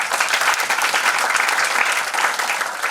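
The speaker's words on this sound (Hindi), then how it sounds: "ताली बजाओ इन लोगों के लिए।" An audience at a business system meeting breaks into sustained, loud applause, with dense clapping that continues evenly and close throughout and no speech heard over it.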